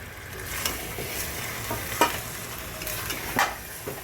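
Rice being stirred into chicken pulao in a pan, a continuous sizzling scrape with several sharper clinks and knocks of the utensil against the pan, close and without speech.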